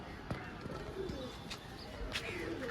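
A pigeon coos softly in low, throaty bursts against faint background noise, with a few scattered sharper clicks and bird sounds close by.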